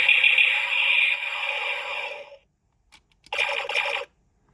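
Vintage 1996 Star Trek First Contact Starfleet Type II toy hand phaser: a loud, shrill, sustained buzzing tone for about two seconds, a brief pause, then a shorter second burst.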